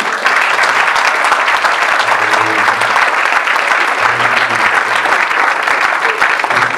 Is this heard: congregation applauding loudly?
yes